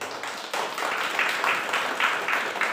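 An audience applauds at a retirement speech event, a moderately loud wash of clapping that swells after a brief pause and continues steadily with no talking.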